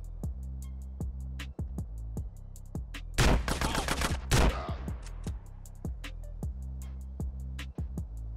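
Gunfire in GTA San Andreas: scattered sharp single shots over a low rumble, then a dense, loud rattling burst in the middle before the sparse shots return.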